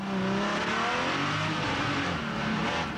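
Onboard engine of a Porsche race car chasing a BMW at the 1997 Chamonix 24-hour ice race, a loud, steady roar with shifting revs and no talk.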